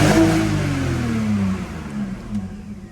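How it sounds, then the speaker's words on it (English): A BMW E46 325xi engine with a cylinder 4 misfire revs up loudly, its pitch sweeping and then falling back as the revs drop, running close by with no talk over it. "When you rev it all the way out, the misfire go away"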